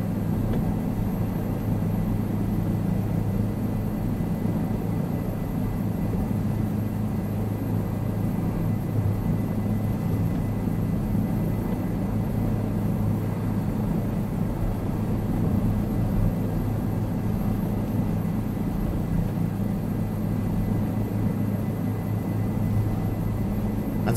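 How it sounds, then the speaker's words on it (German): A Bell 407 helicopter flies slowly in Microsoft Flight Simulator 2020, giving a steady, even turbine and rotor drone that holds without a break for the whole stretch, with no talking. "Ansonsten ist halt weiterhin noch ein wirklich sehr einsteigerfreundlicher Helikopter hier, auch beim langsamen Fliegen."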